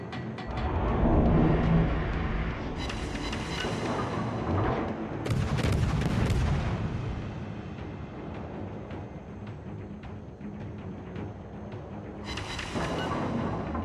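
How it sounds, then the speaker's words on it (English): Warship artillery shells enemies in the video game World of Warships: heavy booming salvos, several distinct loud bursts spaced a few seconds apart, each trailing off into rumbling game ambience. "I keep shelling enemies from 6-10 kilometers away."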